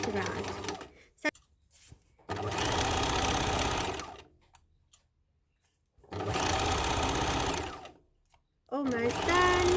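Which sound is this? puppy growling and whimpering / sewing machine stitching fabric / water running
sewing machine stitching fabric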